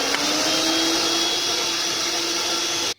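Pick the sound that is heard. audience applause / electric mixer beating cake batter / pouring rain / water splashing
electric mixer beating cake batter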